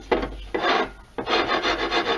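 A dirt bike engine case is rubbed back and forth on sandpaper taped to a surface table, giving three rasping strokes with short pauses between them, close and fairly loud.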